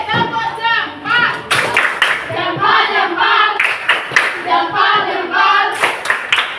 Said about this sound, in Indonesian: oke, tepuk jempol.